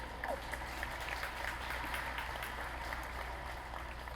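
Steady applause from a crowd at a high school graduation ceremony, a dense patter of clapping that holds at an even level throughout.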